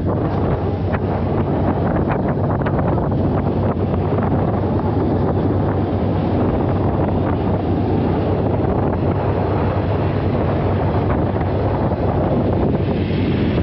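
A car ferry crossing in the Philippines, with heavy wind buffeting the microphone over a constant low rumble of the boat and water, loud and unbroken throughout.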